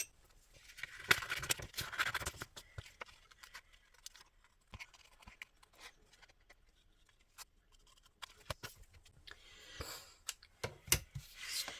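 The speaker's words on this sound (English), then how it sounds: "I am going to now trim this out with my scissors." Scissors trimming folded thin paper from a coffee sleeve, quiet close snips and papery rustles in irregular clusters, with soft scraping and handling noises between cuts.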